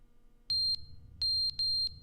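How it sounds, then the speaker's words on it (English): A smoke alarm with a low battery chirps three times in about two seconds, each a short, sharp, high-pitched beep over a faint background hum, with no speech. "the smoke alarm is running out of battery"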